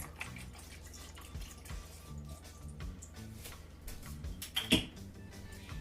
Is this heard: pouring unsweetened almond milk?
yes